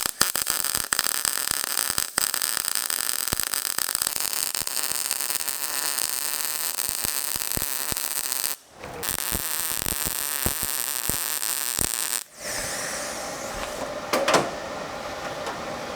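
An old arc welder crackles steadily while laying weld beads, a dense, continuous sizzling buzz that breaks off briefly twice before resuming, close and loud with no talking.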